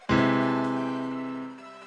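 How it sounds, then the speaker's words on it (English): A single sustained augmented triad chord rings out alone, rich in overtones, fading slowly over a couple of seconds. "An augmented triad is formed by major third plus major third,"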